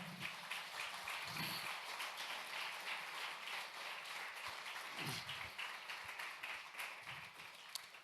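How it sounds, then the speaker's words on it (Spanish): A church congregation applauds, with steady dense clapping that carries on without a break and sounds somewhat distant, plus a couple of brief low thumps. "Denle un aplauso al Señor"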